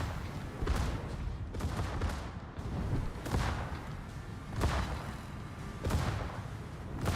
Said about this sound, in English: That's a good hit for a tier 5 battleship.